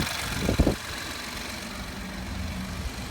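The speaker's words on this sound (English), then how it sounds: "the only thing that I'm hearing are the injectors opening up" A 2012 Ford F-150 EcoBoost engine idles with a steady low hum and faint rapid ticking from its fuel injectors. A brief louder clunk sounds near the start.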